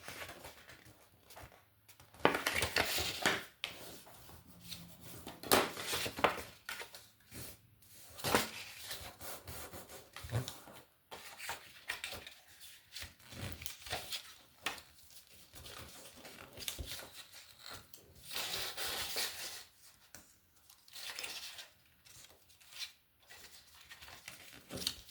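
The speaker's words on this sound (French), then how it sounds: "on n'a plus qu'à marquer nos plis" Paper folds on a handmade gift bag are creased with repeated soft rubbing and scraping strokes. The strokes come in intermittent bursts and stay faint and close.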